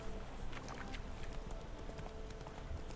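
Horse galloping in the video game The Witcher 3, a steady clip-clop of hooves running continuously at moderate loudness over busy game ambience.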